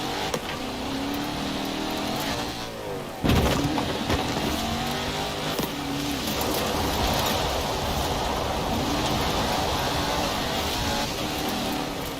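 An all-terrain supercar engine in Forza Horizon 4 drones steadily under load, a continuous rough roar with a brief sharp jolt early on, then a sustained hum and rumble throughout.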